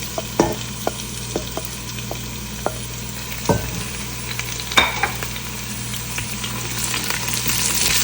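Steady sizzling of garlic and ginger frying in a hot pan for dal makhani, with occasional scraping stir sounds and soft clicks, no voices.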